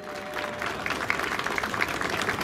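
A crowd at the Rallye Ain Jura 2024 historic-car (VHC) prize ceremony applauds the three podium crews, a dense, steady wash of clapping that swells slightly and carries on throughout.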